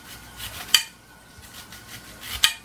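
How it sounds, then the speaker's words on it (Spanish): A knife cuts an onion into rings on a board, giving two sharp clicks of the blade striking the board amid faint soft rustling; no talk. "Vamos a rodar ya la cebolla. Vamos a hacer rodajas."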